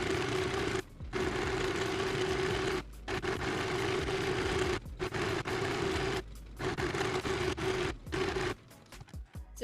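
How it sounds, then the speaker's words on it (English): Home sewing machine running a straight stitch along a line on skirt fabric, a steady fast mechanical whir with a rhythmic needle tone, stopping briefly several times between runs and starting again, close and alone. "we're going to sew on a straight stitch onto this line over here from this end up to the other end over here"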